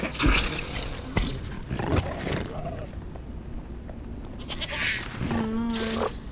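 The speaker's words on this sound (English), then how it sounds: "We're gonna feed the goat to the dragon." A goat bleats in a dragon pit, a wavering cry near the end over a dense roaring, rumbling animal background with noisy scene sound throughout.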